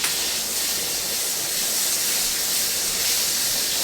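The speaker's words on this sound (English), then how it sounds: "So to the hot pan, we are going to add a couple tablespoons of butter" Butter, about two to three tablespoons, melting in a hot pan gives off a steady, fairly loud broadband hiss and sizzle that holds evenly for the whole stretch, with no talking over it.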